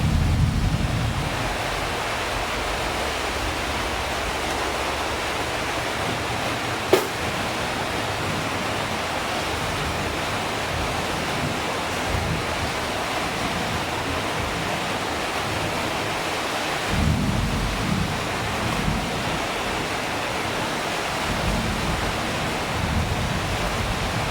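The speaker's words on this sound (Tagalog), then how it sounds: "Ulan." A steady, dense hiss of rain, constant and enveloping throughout, with a single sharp tap partway through and a low rumble underneath.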